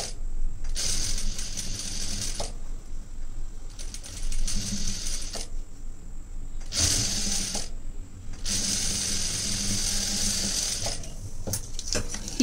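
A sewing machine stitches a boat neck blouse in several separate runs, each a fast, steady mechanical whir lasting a second or more, broken by short quiet pauses, close up.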